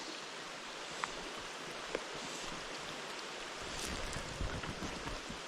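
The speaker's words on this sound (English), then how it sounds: "this rain is getting harder" Steady, hissing rain falls on a wild trout stream in northeast Pennsylvania, a dense, even wash of sound with a few faint drips and knocks, and no voices.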